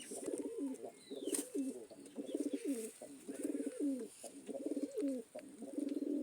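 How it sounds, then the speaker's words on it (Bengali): Pigeons, including a red-necked breed, coo in repeated low, throaty phrases, close and steady throughout, with faint higher bird chirps in the background. "কবুতরটা একটা গলালাল প্রজাতির কবুতর"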